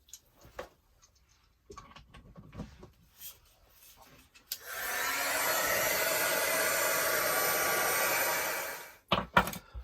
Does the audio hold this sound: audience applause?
no